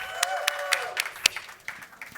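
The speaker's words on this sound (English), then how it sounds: "Let's give him a big round of applause" Applause for a Premier at a digital asset and innovation event, a thin patter of claps with a few sharp distinct hand claps standing out, with faint tonal sound underneath.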